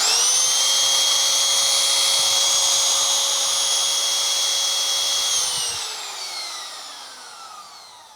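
A MOL cordless trimmer router motor runs at a steady high-pitched whine for about five seconds, then spins down with a falling tone as it coasts to a stop, loud and close with no talking.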